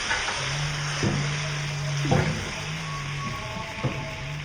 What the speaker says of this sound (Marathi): मसाला छान पुन्हा तेल सुटेसपर्यंत परतून घ्यायचा आहे